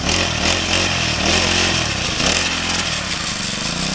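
A small four-stroke brush cutter engine, used for one year, runs loudly and close, its buzzing note rising and dipping slightly as the throttle changes.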